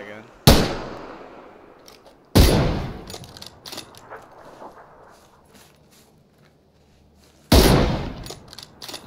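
Gunfire from a video game gun: three loud, sharp single shots spaced a couple of seconds apart, each with a short echoing tail, with someone talking in between.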